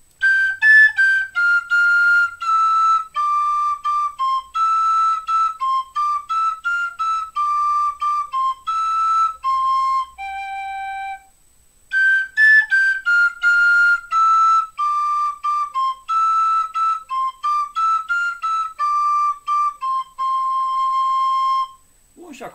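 A high, clear Romanian shepherd flute plays a stepwise scale, pausing midway before a second ascending and descending sequence, close and steady.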